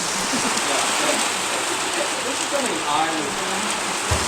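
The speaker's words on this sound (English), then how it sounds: "It's raining. Get a shot of the rain." Steady rain with hail patters down outdoors, a continuous broadband hiss with scattered tapping, while a voice speaks briefly over it.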